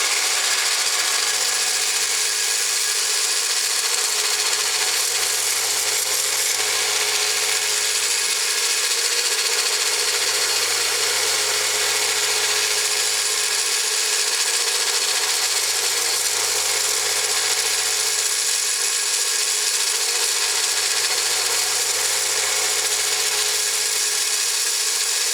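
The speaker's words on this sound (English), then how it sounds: "hold this ring against the belt sander and to rotate it and grind it at the same time" A belt sander grinds a copper ring held and rotated against the belt, giving a loud continuous whine with no break and a low hum that pulses roughly every few seconds, with no talk.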